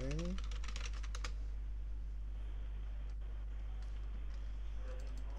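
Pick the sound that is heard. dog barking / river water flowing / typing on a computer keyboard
typing on a computer keyboard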